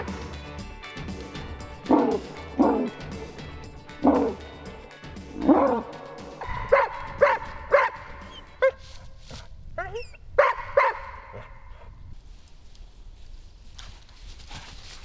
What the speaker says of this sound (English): It is also possible to train the dog to bark while standing beside the dead game.